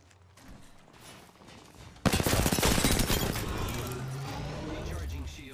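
Apex Legends Season 14 match: after a quiet stretch, sudden loud automatic gunfire erupts and keeps rattling in rapid bursts, with some impact and cracking noises layered over it and a voice talking underneath.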